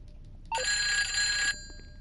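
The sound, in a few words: phone ringing in video game GTA Online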